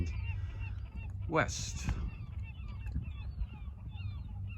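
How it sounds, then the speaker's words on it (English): Seagulls call on the Maine coast near Vinalhaven Island, faint distant cries over low boat and water rumble with one louder rising squawk, while someone speaks briefly. "I hope you can hear the call of the seagulls"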